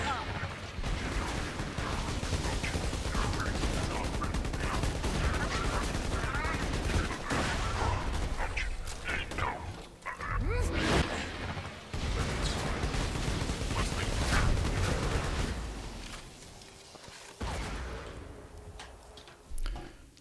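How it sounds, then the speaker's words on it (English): Assault rifle fire from the video game Borderlands 2 rattles in long, near-continuous automatic bursts over busy game effects, with a voice talking at times and a brief lull near the end. "Nice to get some use out of the assault rifle ammo."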